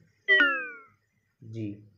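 A cat meows twice: a bright, falling meow, a short pause, then a lower, softer one.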